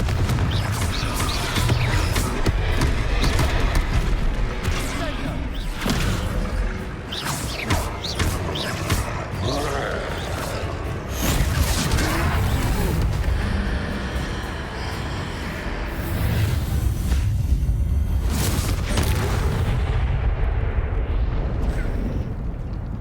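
Booming Confringo blast spells explode repeatedly during a fight with a troll in Hogwarts Legacy. The dense, loud bursts and rumbling impacts pile up over a cluttered game soundscape and run almost without a break.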